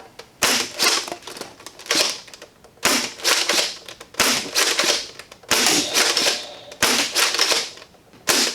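An AF Conquest Pro SPAS-12 foam dart blaster fitted with an Hourglass Mods kit fires in rapid bursts of sharp, loud clacking shots, each volley followed by short pauses, with no speech.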